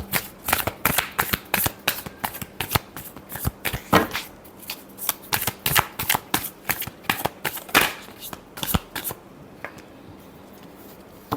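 Tarot cards being shuffled up close, a quick run of crisp riffling flicks and taps in irregular bursts that fade to quiet near the end.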